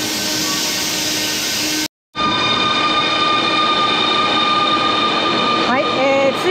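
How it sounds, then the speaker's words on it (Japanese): A Sobu Line Rapid train bound for Narita Airport pulls into the airport station platform, its loud steady rolling roar broken by a brief gap, then continuing with whining motor tones that rise and fall near the end. "ついに先に見届けた成田空港行きの列車が到着しました。"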